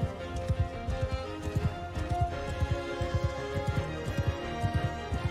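Horses gallop in the Mount & Blade Bannerlord video game during a battle: a steady, close run of hoofbeats clip-clopping in quick irregular rhythm, with a faint whinny and no talking.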